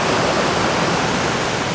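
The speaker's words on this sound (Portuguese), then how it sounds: "Só a beleza mesmo, de ver essa cachoeira aí." A waterfall beside a lagoon, heard as a loud, steady, broadband rush of falling water with no breaks or voices, close and continuous throughout.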